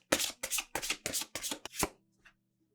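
Oracle cards shuffled by hand in a quick run of six crisp riffling bursts, close and fairly loud, then a brief faint tap before quiet.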